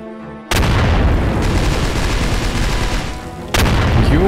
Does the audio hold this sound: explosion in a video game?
yes